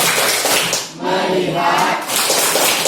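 A classroom of students claps together in a loud, rhythmic focus clap led by a teacher. The dense claps break off briefly twice over a few seconds.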